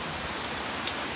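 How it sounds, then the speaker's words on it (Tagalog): Heavy rain pours steadily in Siargao, a dense, even hiss of drops drumming on surfaces with no breaks. "Lakas ng ulan."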